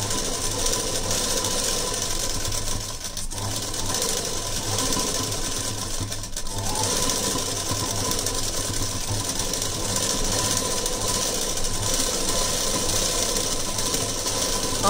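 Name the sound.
sewing machine stitching a blouse sleeve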